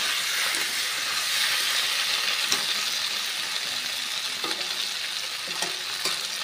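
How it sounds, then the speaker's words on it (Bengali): Sorputi fish curry sizzling in a pan as tomato is stirred in, with a steady close frying hiss and a few soft scrapes of the spoon, with no talking. "টমেটোটা দিয়ে আমি নেড়ে চেড়ে সব কিছুর সঙ্গে ভালোভাবে মিশিয়ে নেব।"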